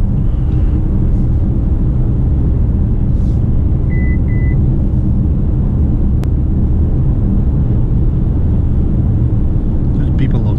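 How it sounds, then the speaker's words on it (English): An MG HS sounds its driver-assist warning as a pair of short, quiet electronic beeps while cruise control is re-engaged on a night drive in the UK. The beeps sit over a steady low road and engine rumble. "Don't know what that beeper's for, I was just re-engaging cruise control."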